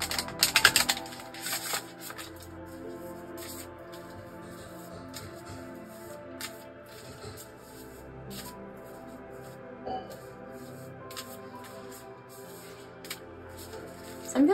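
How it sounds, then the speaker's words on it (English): A deck of tarot cards is shuffled by hand, soft papery riffles and slides with a louder burst at the start and then quieter intermittent handling, close and faint. "I'm just gonna shuffle this deck here"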